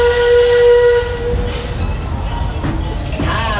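A steam locomotive on the Western River Railroad at Tokyo Disneyland sounds a sustained whistle, then lets out bursts of hissing steam over low rumbling, fairly close and without talk.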